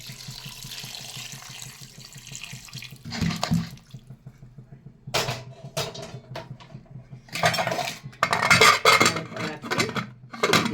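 Hot water poured into a pressure cooker holding mutton and fried potatoes, heard as bursts of splashing and pouring between quieter gaps, with clanks of pots over a low steady hum.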